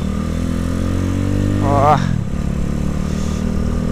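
A loud, hot-running Yamaha Minerva motorcycle engine clatters and drones steadily up close, with a brief exclamation from a voice partway through.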